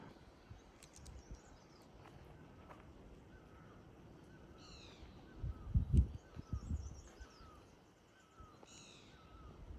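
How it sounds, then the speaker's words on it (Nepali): Birds chirping and cawing outdoors, scattered calls at moderate distance over low rumbling background noise, with a louder thump of noise midway. "चिरबिर चिरबिर चरीहरू पनि कराउँदैछ"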